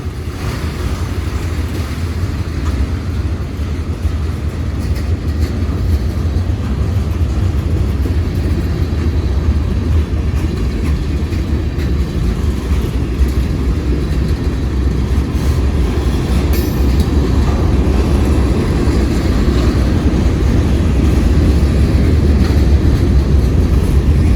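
Long CSX freight train of 152 cars running down a town street, a loud continuous low rumble and rolling rail noise close by, steady throughout with a faint rising intensity.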